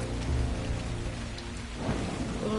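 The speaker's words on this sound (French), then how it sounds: "la nuit tombe, il pleut" Steady rain falls at nightfall in the ARK survival video game, a dense continuous hiss with a low rumbling undertone throughout, fairly loud and with no talking.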